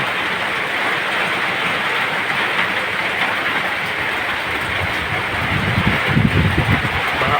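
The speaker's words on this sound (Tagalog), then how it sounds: "Lakas ng ulan. Medyo lumalakas rin ang hangin." Heavy rain pours during a low-pressure storm as the wind strengthens, a loud, steady wash of hiss with deeper gusty rumbles swelling near the end.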